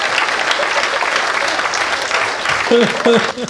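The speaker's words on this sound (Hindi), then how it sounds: "एक बार हाथ खड़े करके तालियां बजाओ जरा" Audience applause fills a Haryanvi comedy kavi sammelan poetry recital, dense steady clapping throughout, with a voice briefly heard near the end.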